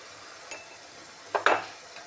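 A spoon stirs chili powder and turmeric into a fish curry in a pot, giving a few short scraping clinks, a louder double scrape near the middle, over quiet background hiss.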